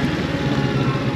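Kawasaki Z650 motorcycle engine while riding, a loud, steady mid-low drone close by that stays constant throughout with wind rush.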